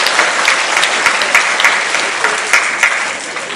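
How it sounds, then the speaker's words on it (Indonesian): High school students at SMAN 1 Bunut applauding at a Maulid Nabi celebration, a loud dense burst of many hands clapping with a few sharper accents, steady from start to finish with no talk. "Tepuk tangan sekali lagi untuk kalian."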